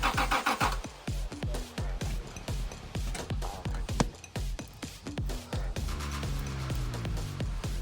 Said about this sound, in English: Definitely had a lean backfire of some sort.